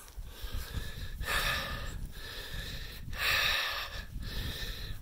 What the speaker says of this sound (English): as you can tell by my breathing, I am up yet another hill